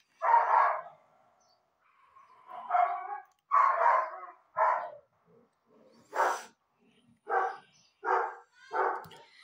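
Several dogs bark in short, loud bursts close by, about eight sharp barks spaced unevenly across the stretch, with quiet gaps between and no one talking.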